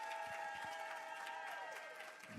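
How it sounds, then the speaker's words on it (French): An audience applauds at a hospital staff speaking event, a brief wash of clapping that sits under a bright sustained musical jingle, fairly faint and distant. "Je vous demande un tonnerre d'applaudissements pour Laure Lacoste."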